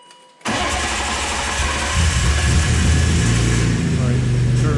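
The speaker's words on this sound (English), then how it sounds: "we're going to start it, and theoretically it should crank over" A 1997 BMW M3 engine cranks over after a brief silence, a steady loud whir of the starter that continues without interruption for several seconds, sounding close and mechanical.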